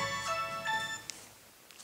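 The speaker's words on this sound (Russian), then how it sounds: "Смотри, звонит." A telephone rings with a steady electronic ringtone, a clear multi-note tone that holds for about a second and then fades, fairly quiet against low background noise.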